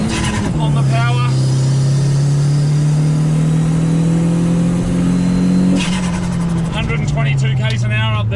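A cheap turbocharged Toyota Yaris accelerates hard on a track, its engine droning loud and steady with a rising pitch, then dropping through a gear change, with a driver talking over it near the start and end.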